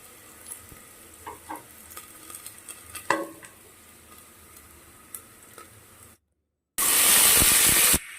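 Onions and green chillies go into a pan of cloves and pepper for vegetable pulao, with scattered scrapes and clinks of stirring over a low sizzle, then a pause and a sudden loud, hissing burst of frying.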